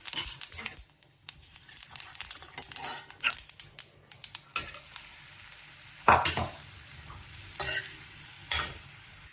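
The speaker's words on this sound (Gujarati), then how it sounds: "હવે અમે થોડીક વાર ધીમા તાપે કડકડિયું ખાવા દઈશું" Spice tempering (kadkadiyu) sizzling in a pan while being stirred, crackling hiss with clattering scrapes and a few louder utensil knocks against the pan, close, no talking.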